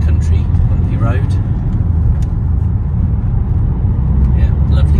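A 2014 Vauxhall Astra GTC 2.0 CDTI 195 BiTurbo diesel hatchback drives along a bumpy country road, heard as a steady, loud rumble of engine and road noise from inside the cabin.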